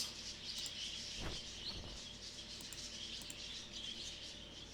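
Birds chittering in The Last Door, a soft, continuous wash of high chirps and tweets at low level, with a brief dull thump partway through.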